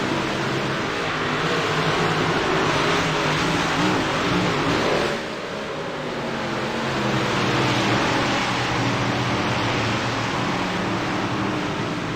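Race car engines from a sim racing video game at Charlotte roar in a dense, continuous wash of engine noise and tire hiss, loud and unbroken with a brief dip midway, with no voices.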